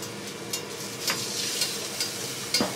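Water added to a hot pan while baking egg-white lapis legit layer cake gives a steady, moderately loud sizzle and hiss, with a few brief crackling bursts and no talking.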